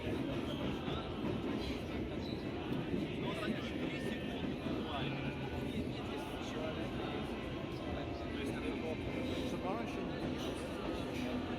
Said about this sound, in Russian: Дальше вы можете насладиться полным перегоном от станции Кропоткинская до станции Парк культуры.